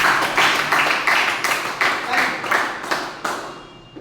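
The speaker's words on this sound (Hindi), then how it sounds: "मैं चाहूंगा वैसे शुभचिंतक के लिए जोरदार तालियां" An audience at a business presentation claps in a loud, rhythmic beat, with about two or three strong claps each second that slowly fade near the end.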